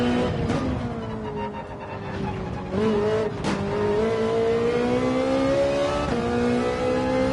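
Rear-engined race car in Gran Turismo 7 accelerating out of turns, a loud close engine note sweeping upward through several gear shifts with brief dips between them, alone without talk.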